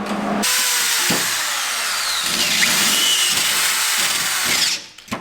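A power drill boring holes through metal bars for go-kart light mounts, a loud continuous high whine lasting several seconds with slight pitch shifts, then winding down.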